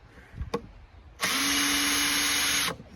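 A power drill drives a screw into a wooden Langstroth beehive: a single steady whine of about a second and a half, close and fairly loud, preceded by a few soft knocks.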